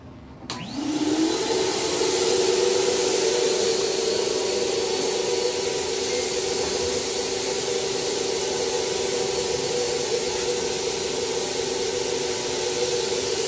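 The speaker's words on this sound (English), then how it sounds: "Turn the sprayer on." A paint sprayer hisses on for spraying a wooden cabinet, starting abruptly and then holding a loud, steady rushing hiss with a faint motor tone for over twelve seconds, with no talk.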